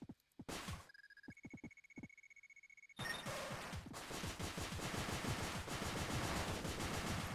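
Missile launcher firing in the video game Cave Story+, a few sharp electronic shots and tones followed by a dense, continuous run of rapid explosive bursts filling the second half.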